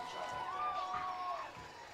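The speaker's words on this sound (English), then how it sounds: "you love to hear the crowd getting into it" Home crowd at a high school homecoming football game in a stadium at night, a broad sustained roar of cheering that swells and then eases slightly, with some vocal tones standing out in the crowd noise.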